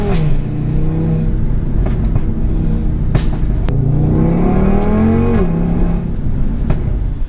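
A 520 bhp Audi RS3 with an Eventuri intake accelerates hard on winding roads, its engine note climbing through gears with sharp pops and snaps between shifts, loud and close.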